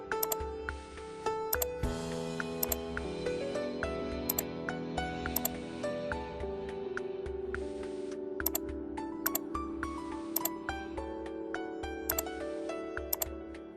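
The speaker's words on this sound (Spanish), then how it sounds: "Se da clic izquierdo en el mouse." Left mouse button clicks while a polygon is drawn on a computer, crisp, close, isolated ticks repeating irregularly, some in quick pairs, over steady background music.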